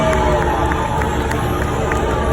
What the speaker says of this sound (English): Let us join together now and raise a cheer for all of our heroes.